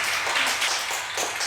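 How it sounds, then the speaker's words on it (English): Audience applause from a seated crowd at a lecture, a dense wash of many hands clapping steadily for a second and a half, fairly loud and continuous without talk. "Give yourselves a round of applause."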